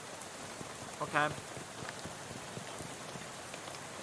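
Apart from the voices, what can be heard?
rain falling in the video game Shadows Over Loathing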